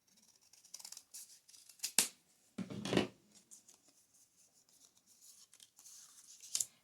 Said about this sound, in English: I'm going to cut these down